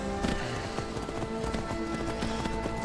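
Horse hooves clip-clop at a running pace in the video game Skyrim, a steady close rhythm of hoofbeats with faint game ambience behind.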